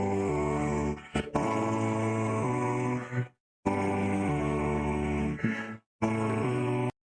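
A pet dog's growling run through auto-tune, heard as pitched, warbling tonal grunts and growls in several bursts separated by short silences, close and loud, with no talking.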